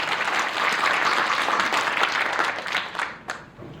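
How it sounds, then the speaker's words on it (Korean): Audience applause at a political book launch event in Hanam, Korea, a steady wash of many hands clapping that stays loud throughout, then thins out and fades toward the end. "박수 주십시오"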